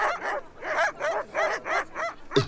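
A pack of mixed-breed sled dogs barking in a rapid, steady run of about seven loud, close barks, with a higher yelp at the very end.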